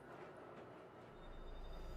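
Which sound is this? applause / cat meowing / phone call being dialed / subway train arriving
subway train arriving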